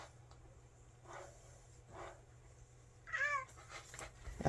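A stray cat meows a few times, faint at first, then louder and closer toward the end, in a quiet indoor setting.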